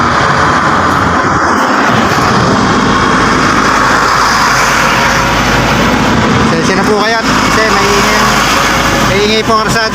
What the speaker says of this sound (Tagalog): maingay po mga sasakyan kasi nasa tabing kalsada po tayo.